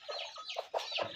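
Brooding hens on a poultry farm cluck softly in short repeated calls, close by and fairly faint, with no one speaking.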